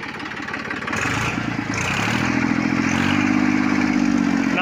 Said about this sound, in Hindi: नाम को भी बहुत बेहतरीन आवाज़ है ट्रैक्टर की